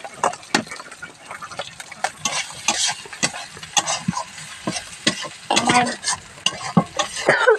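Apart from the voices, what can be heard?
carrots and potatoes frying in a pan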